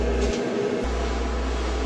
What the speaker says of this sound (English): Turn the dryer on.